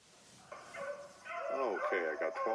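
A pack of about twelve hunting dogs bays and yelps while chasing a rabbit out of brush, the barks building from scattered calls into a continuous, overlapping chorus at middle distance.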